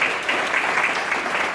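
Foundation staff applaud at a convivial lunch at Villaggio Airone, a brief, steady burst of clapping that is fairly loud and close throughout.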